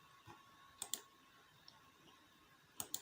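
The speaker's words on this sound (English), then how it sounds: "And now I'll right click on this one and extract." A computer mouse gives a few sharp, faint clicks, including two quick double-click pairs, in a quiet room with no talking.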